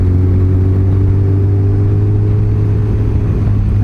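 Motorcycle engine running steadily while riding Needles Highway in the Black Hills, a loud continuous low drone with a constant pitch and wind rush, close and unbroken throughout with no talking.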